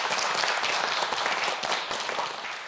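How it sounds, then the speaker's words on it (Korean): A studio audience on a Korean science quiz show bursts into dense, steady applause that stays loud and even throughout, with no speech over it. "여러분 박수 좀 보내주세요."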